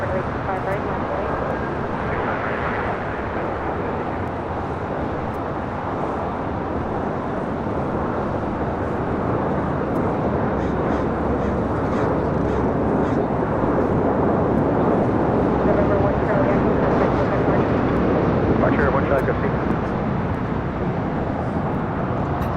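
Airliner taking off from runway 25 right at LAX, a loud continuous broadband engine roar that holds steady throughout with faint radio chatter beneath.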